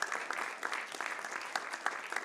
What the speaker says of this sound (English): please let's appreciate them with a round of applause.